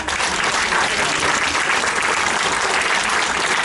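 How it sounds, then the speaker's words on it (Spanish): A lecture audience gives a steady, loud round of applause to welcome a speaker, continuous dense clapping throughout with no pauses. "Lo recibimos con un fuerte aplauso."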